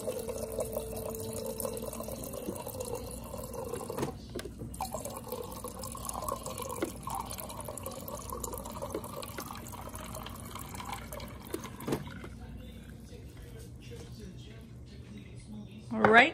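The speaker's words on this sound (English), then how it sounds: "Fill that up with water." Water runs from a tap into a cup of ice, a soft continuous trickle and splash with faint clinks, quiet and close in a home kitchen.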